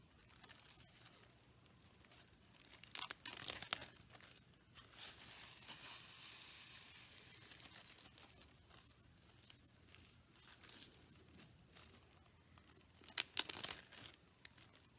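Dry bath bomb ingredients poured from a bag into a bowl, heard as soft rustling, crinkling plastic and granular patter close by, with a couple of sharper bag crunches near the start and the end.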